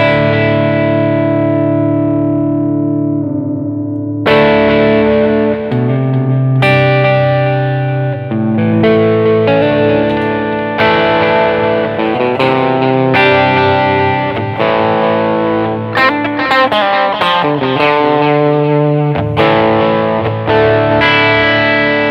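An electric guitar plays through a 1990 Japan blue-label Boss DD-3 digital delay pedal, loud sustained chords and picked notes trailing into repeating echoes, with strummed phrases and ringing decays across the whole passage and no talking.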